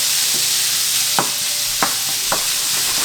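Pork belly renders in a hot pan with a loud, steady sizzle, broken by three short utensil scrapes or taps as it is moved about.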